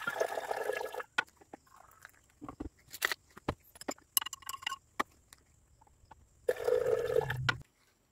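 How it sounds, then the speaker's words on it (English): Liquid poured off in a lab while decanting the washing water from dissolved sterling silver, heard as two bursts of pouring and splashing at the start and end with scattered clinks and taps between. "So let's decant this one and we dry."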